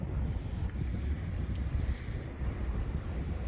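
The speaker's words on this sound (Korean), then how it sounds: "북풍이 불어서 바람이 이쪽에서 이렇게 불어서" Cold north wind gusts steadily across a low-tide shoreline while fishing, a continuous broadband rumble of buffeting wind on the microphone with no voices.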